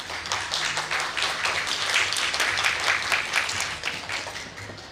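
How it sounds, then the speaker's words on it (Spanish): Sustained applause from an audience at a book fair panel welcoming the speakers, dense steady clapping that swells slightly in the middle and continues evenly throughout, with no talk over it. "Los recibimos con fuertes aplausos."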